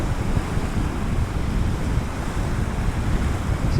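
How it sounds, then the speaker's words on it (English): Ocean water surges onto the Orkney coast as turbulent waves come in. The roar is loud and continuous, with heavy wind buffeting the microphone and no voices. "the water's coming in"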